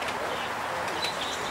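Racing pigeons arrive and settle at a club loft during a competition flight, with faint cooing and soft fluttering amid steady outdoor background noise.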